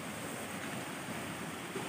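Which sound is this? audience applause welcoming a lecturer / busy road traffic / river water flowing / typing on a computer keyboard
river water flowing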